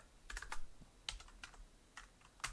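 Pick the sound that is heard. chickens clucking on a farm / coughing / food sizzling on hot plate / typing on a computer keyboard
typing on a computer keyboard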